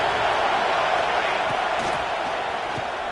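Roaring stadium crowd at a Penn State college football game against Illinois, a loud, steady wall of cheering noise with a few faint thumps underneath.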